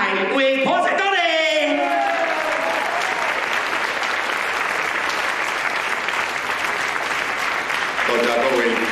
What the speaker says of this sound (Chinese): 热烈的掌声来欢迎咱李三元董事长